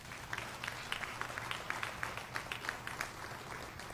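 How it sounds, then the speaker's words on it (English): Applause for Art Rooney at a Steelers press conference with local leaders, a steady patter of many hands clapping at moderate distance with scattered louder claps over a low room hum, continuous for the whole stretch. "Let's just stop there and give Art Rooney a round of applause"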